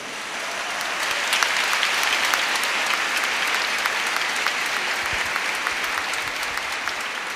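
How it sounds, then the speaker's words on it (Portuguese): Church congregation applauding after a Bible reading, a steady dense wash of clapping from many hands that holds loud and even from start to finish, with no voices on top. "Pode aplaudir a palavra."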